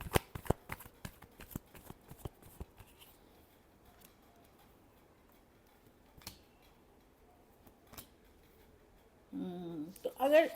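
Tarot cards are shuffled as a quick run of crisp riffling snaps, then a few isolated flicks across quiet stretches, and a voice begins speaking near the end.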